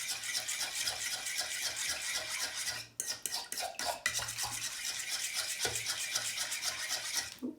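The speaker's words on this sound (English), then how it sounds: "slowly mix it. Mix, mix, mix. You hear that?" Liquid chalk paint being slowly stirred to work out lumps, a steady close scraping and swishing of a utensil through thick liquid in a container, with a brief break in the middle before the stirring resumes.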